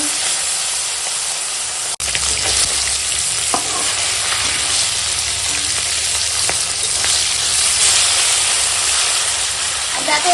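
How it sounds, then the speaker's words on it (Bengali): Steady loud sizzling of fish frying in hot oil, with a sharp utensil clack early on and light scraping of a spatula. "এখন তেল গরম হয়ে গেছে মাছ ভেজে নেব"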